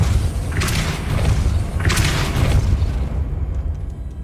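Heavy magical impacts from the Depulso force spell in Hogwarts Legacy, two deep booming thuds with bright bursts about a second apart over a constant low rumble of game ambience.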